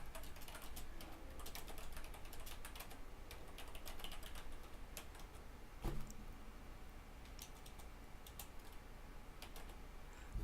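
Steady typing on a computer keyboard, a run of light, rapid clicks and taps that continues evenly throughout at close range with no talking.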